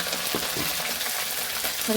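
Curry leaves and peas sizzle steadily in hot tempering oil for a dry potato bhaji, a close, continuous crackling fry with a few soft stirring touches and no voices.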